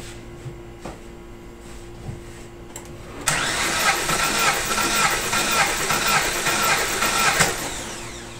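An engine cranked with the starter during a cylinder compression test: a few faint clicks and knocks, then a sudden loud, rapid, steady cranking chatter that holds for about five seconds and stops abruptly.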